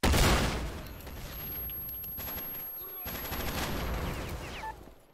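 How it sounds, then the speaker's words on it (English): A video game grenade launcher fires in loud, dense bursts of heavy booming blasts and rattling fire, filling the whole stretch with no voices. "this grenade launcher is a pretty fun thing. Holy shit, is it loud?"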